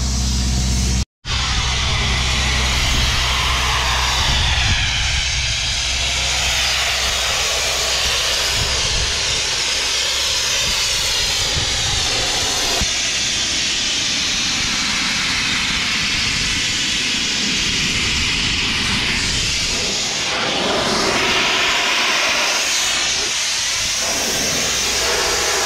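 Mobile sandblasting rig blasting the wheels and bodywork of a fire-damaged Fiat 80-90 farm tractor, a loud, continuous roaring hiss of abrasive and air that barely wavers, with one brief dropout near the start.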